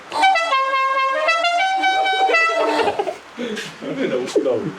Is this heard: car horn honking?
yes